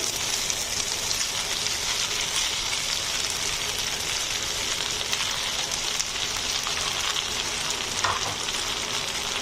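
Chicken popcorn tossed into pasta frying in a pan, a loud, even crackling sizzle that runs steadily throughout with faint stirring scrapes and no speech.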